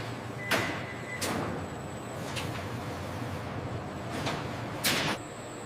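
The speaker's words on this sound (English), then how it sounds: "The oven doors close to begin the drying cycle." Industrial drying oven doors close in a ginger processing factory, giving several sharp metallic clunks and slides spread across a steady mechanical hum, with no voices.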